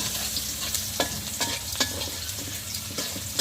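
Onions fry in hot oil for a fish curry, a steady close sizzle with a few soft stirring knocks running through it.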